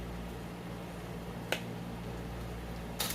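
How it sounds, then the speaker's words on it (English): Glass canning jars for crushed tomatoes go into a boiling water bath with a trivet on the bottom: two sharp, brief clinks spaced apart over a steady hiss and rumble of boiling water. "I'm going to drop the jars into the boiling water."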